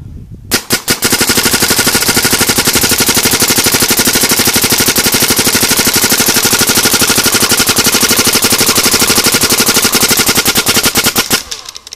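A Planet Eclipse Geo3.1 paintball marker fires in a continuous rapid stream of closely spaced shots lasting about eleven seconds, loud and close, with no talking.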